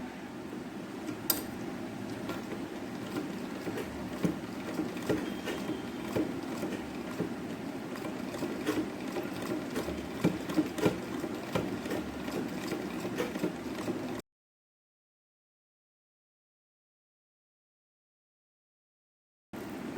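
Sewing machine slowly stitching a tulip sleeve, a continuous close mechanical hum with regular needle ticks for about fourteen seconds, then abrupt silence.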